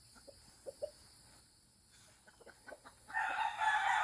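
A gamefowl rooster crows faintly in the distance, with soft clucks and scattered bird calls before it and the crow rising near the end, no voices.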